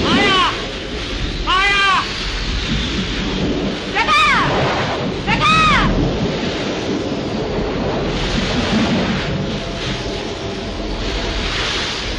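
Heavy rain pours steadily through a stormy night in a 1937 Hindi film while thunder rumbles loudly, a dense roar that runs the whole way under short rising tones from other sounds.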